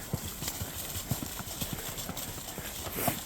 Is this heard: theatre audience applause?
no